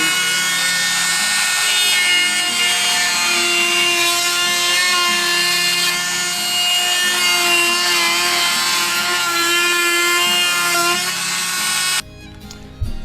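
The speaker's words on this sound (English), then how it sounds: "I'm going to try 3/4 inch Dremel blade and wrap in between." Continuous high-pitched whine of a Dremel rotary tool with a blade, cutting styrofoam away from plywood on a camper access door, loud and steady for about twelve seconds before stopping abruptly.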